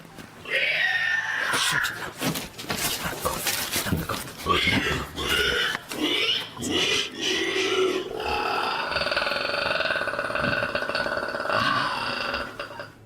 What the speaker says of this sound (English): It sounds like a mix between a squealing pig and some sort of enraged dinosaur.